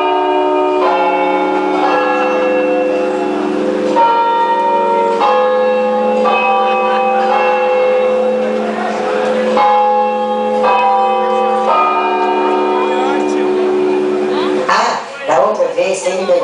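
A voice imitates the ringing of a church bell next door, sustained tonal bell-like strokes repeating in a steady rhythm for the whole stretch, close and loud, ending in a short wavering vocal slide.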